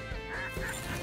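Ross's geese call overhead in a Saskatchewan field, giving a few short, high honking yelps in quick succession, fairly close and clear with no voices over them.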